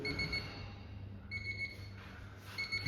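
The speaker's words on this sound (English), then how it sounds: "It's beeping because I've left the door open." A faint electronic hotel room door-open alarm beeps in short repeated bursts over a low background hum, with pauses between the bursts.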